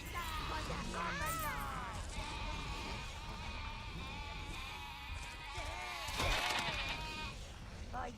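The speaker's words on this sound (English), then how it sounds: "There's some sheep" Sheep in the Overlord video game bleat repeatedly, several wavering overlapping calls close by, with a brief clattering burst near the end.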